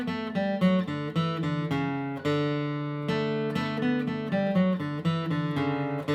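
Acoustic guitar picks a quick bluegrass ending lick from the fiddle tune Cuckoo's Nest, a steady run of bright plucked single notes with ringing bass strings, close and clear with no talking.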